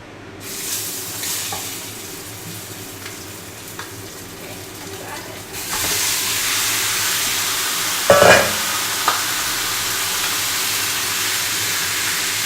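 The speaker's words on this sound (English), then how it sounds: "All right, I'm gonna add chicken. It's gonna sizzle." Chicken pieces hit a very hot pan for a cola sauce chicken dish, sparking a sudden, loud, steady sizzle that keeps going after a quieter stretch of kitchen noise, with a few sharp clinks from utensils.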